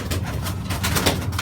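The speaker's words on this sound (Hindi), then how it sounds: "ये बादारी फ़कीर गुल को आप देखें माशाल्लाह बेहतरीन कबूतर है।" Fakir Gull pigeons cooing in a loft setup, a dense, continuous low murmur of several birds close by, with no talking.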